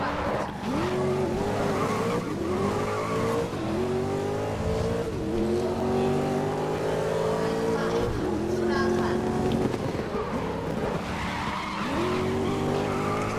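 Race car engine in the GRID racing game, an International Super Tourers Championship touring car, revving hard and climbing repeatedly through the gears with rising whines, steady and loud throughout, with faint tire squeal mixed in.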